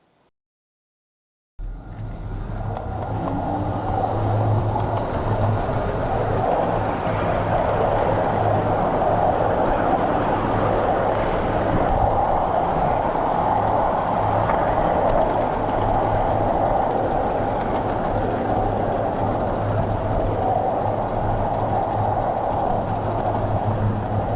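After a brief silence, steady rumbling of a ridden miniature train on rails starts and continues, a constant rolling hum with faint rail clatter, close and unbroken.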